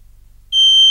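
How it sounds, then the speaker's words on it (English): Honeywell 5806W3 smoke detector's local sounder kicks in after a quiet moment, a loud, piercing, steady high-pitched alarm tone that holds to the end. "We can see the red light is lighting up, and the local sounder for the 5806W3 should go off."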